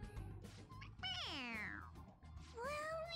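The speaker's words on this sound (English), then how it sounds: "It's, a toy. It meows when you press on its head." A toy cat in the video game Persona 5 Royal gives a loud, drawn-out electronic meow when its head is pressed, and a shorter rising meow follows. Game background music and sounds play underneath.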